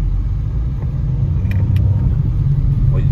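Peugeot 2008 GT with a 1.4 engine accelerating on a test drive, its deep road rumble and low engine drone steady and close, with a few faint ticks over the noise.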